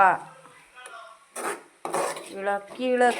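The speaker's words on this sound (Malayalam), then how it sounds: "തക്കാളി, വെളുത്തുള്ളി, പച്ചമുളക്, ഇഞ്ചി, കറിവേപ്പില എല്ലാം ഇട്ട് ഇളക്കുക." A spoon scrapes and clanks against a pan while tomato, garlic, green chilli, ginger and curry leaves are stirred in, giving several short metallic scraping strokes with pauses between them.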